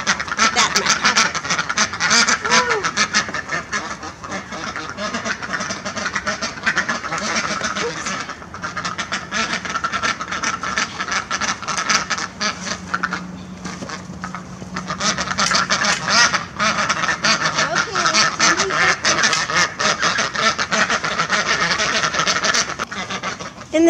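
Ducks quack in a winter duck pen bedded with litter for their feet, a steady chorus of calls up close that runs throughout with a person talking over it at times.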